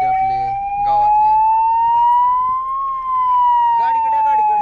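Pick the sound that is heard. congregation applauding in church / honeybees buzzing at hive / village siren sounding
village siren sounding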